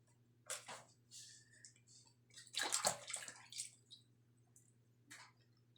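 Yellowfin tuna being rinsed in a basin of water, with a few splashy swishes and squelching handling sounds over a steady low hum, close and fairly quiet.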